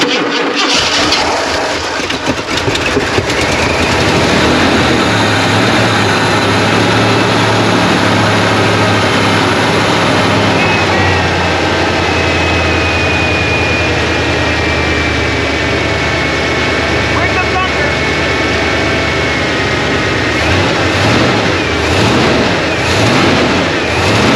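A 1990 Ford F250 pickup, long stored in a barn, fires up and runs steadily after a short start, its loud rough engine idling close by with a constant low rumble throughout.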